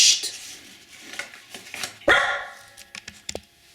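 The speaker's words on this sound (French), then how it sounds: "mon chien a aboyé" A dog barking indoors in a few sharp, separate barks, one louder bark in the middle, fairly close and with no talk over it.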